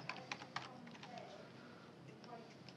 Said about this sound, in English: just type in the location.